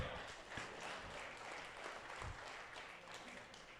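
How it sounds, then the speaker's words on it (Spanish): A church congregation applauds, a faint, steady wash of distant clapping that continues throughout with no clear break. "usted me aplaude"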